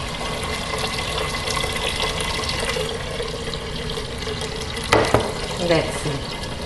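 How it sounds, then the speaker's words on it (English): Water running from a tap into a pan for a pressure cooker, a steady close rushing splash that carries on throughout, with a few brief clanks near the end. "I put some water. Less than a half of the pan"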